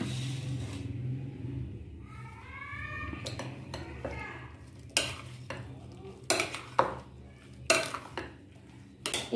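A spoon stirs beaten cream into fruit chaat in a bowl, starting as soft scraping, then turning into a run of sharp, close clinks and taps against the bowl.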